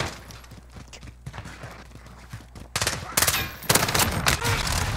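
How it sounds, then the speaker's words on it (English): Rapid automatic gunfire rings out in the Call of Duty Modern Warfare multiplayer game, starting as lighter scattered shots and then building into loud, dense bursts near the end. "I guess I'll just keep shooting"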